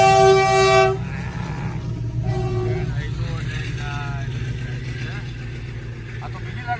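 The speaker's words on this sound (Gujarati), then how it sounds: "આઈ જો ટ્રેન આવવાની તૈયારી છે" A train approaching a closed railway level crossing sounds a loud, sustained horn blast, followed by the rumble of the passing train, with people talking nearby.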